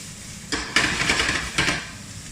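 Meat cooking in a pan for Mexican empanada filling gets stirred, a few close scraping, clattering strokes over a steady sizzle, with no voices.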